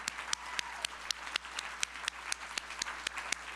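Audience applause at a United Way of the Lower Eastern Shore 80th anniversary campaign kickoff event, a steady wash of many hands with sharp individual claps standing out at a fairly regular beat, moderately distant and without talk.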